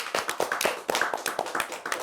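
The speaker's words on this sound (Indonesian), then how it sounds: "Tepuk tangan dong." A small group clapping during a podcast session, sparse uneven claps about four per second, close and moderately loud, with no talk over them.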